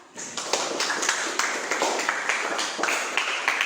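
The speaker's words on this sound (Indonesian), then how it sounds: "Tepuk buat Aska" Students in a science classroom clap for a classmate: a steady patter of many hands from a fairly close group that keeps going throughout, with sharper individual claps popping out of the crowd.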